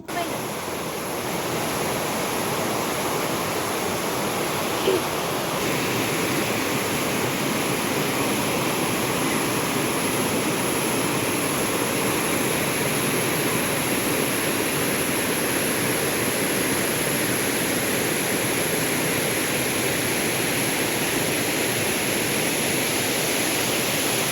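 River water in Kerala rushes in a loud, unbroken flow that fills the whole scene and never pauses, with no voices over it.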